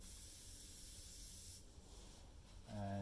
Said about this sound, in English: Spray some on your paper towel.